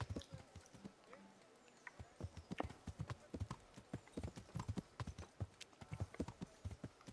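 Horse hooves clip-clop in the medieval video game Kingdom Come, a steady run of close, sharp hoof strikes with a faint whinny-like tone at times, under quiet background.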